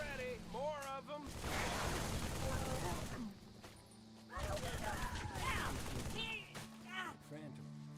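Gunfire in Halo 3 comes as dense bursts of rapid shots layered under shouted battle dialogue and game noise, with loud sustained volleys separated by a brief lull.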